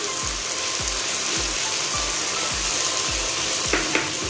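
Spiced tomato masala with salt, turmeric and chili powder sizzles in a frying pan while a spoon stirs it, giving a steady loud frying hiss and regular scraping strokes about every half second.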